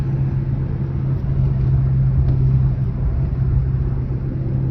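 Rover 75 1.8T turbo engine revving steadily after a misfire was fixed, a loud continuous low rumble with a strong steady hum throughout and no speech.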